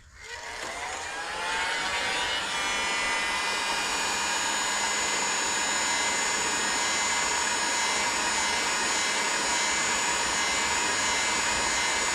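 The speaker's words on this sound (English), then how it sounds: "I'm trying to heat it up a little bit, soften that little rubber a little bit." Heat gun blowing steadily to soften rubber on the kickstart shaft of a Serveta Jet 200 scooter, a loud continuous whooshing hiss with a faint whine that builds in the first second and then holds level, with no talking.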